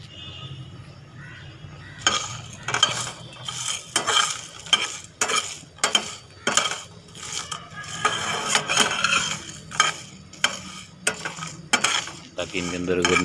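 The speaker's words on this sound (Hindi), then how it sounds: "जो साबुत मसाले हैं उनको इस तरह से ड्राई पैन के अंदर इसको अच्छे तरीके से भून लें।" Whole spices for chaat masala dry roasting in a dry pan, with fast, irregular metallic scraping and rattling as a spoon stirs them, rising in bursts for several seconds, close and fairly loud.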